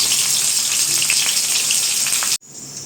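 Onions for a mutton curry hiss and sizzle steadily while frying in hot oil, a close, loud, even crackle that cuts off abruptly near the end.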